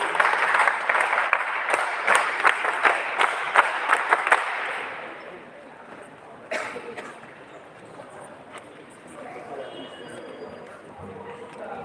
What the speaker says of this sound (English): Let us welcome them with a big round of applause